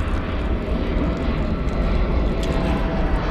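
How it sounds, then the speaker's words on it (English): An airplane passes overhead during a bass fishing outing, a steady, broad rumbling drone that stays fairly quiet and even throughout with no voices. "there's an airplane coming over"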